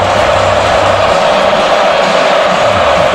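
Sellout stadium crowd at a 2019 college football game between Georgia and Auburn, roaring loudly and continuously as a dense, unbroken wall of cheering throughout, without clear speech over it.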